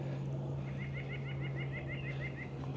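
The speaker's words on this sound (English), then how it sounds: "Birds are laughing at me." Faint series of repeated bird calls at a lakeside, a rhythmic chattering run of about a dozen notes over a steady low hum and outdoor background noise.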